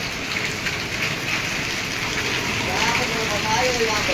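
Heavy rain pours steadily during a storm in Patepur, Bihar, a dense, loud hiss of drops on surfaces with wind that swells slightly toward the end, no speech over it.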